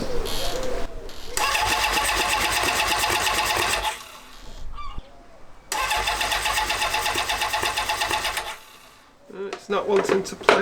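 A Honda CB750 motorcycle engine with an 823cc build, sitting unused for two years, cranks over in two long bursts of whirring starter churn, each about three seconds, without catching; brief quieter gaps and clanks fall between and after.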